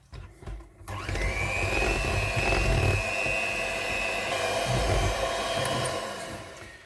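An electric hand mixer whirs steadily as it beats cheesecake batter for a forest-fruit cheesecake, starting after a brief clatter and running loud and continuous to the end without talk.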